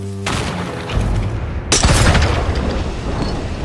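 A single sharp gunshot cracks out in the Ghost of Yotei video game, a loud boom that rings over steady in-game background noise.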